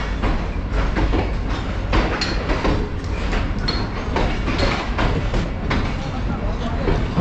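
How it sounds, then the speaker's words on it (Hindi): The Shalimar Express pulls out of Khanewal station with a dense, continuous rumble and rattle of rolling carriages, loud and close throughout. "शालीमार एक्सप्रेस रवाना हो रही है मुल्तान, बहावलपुर, रोहड़ी और कराची की जानिब"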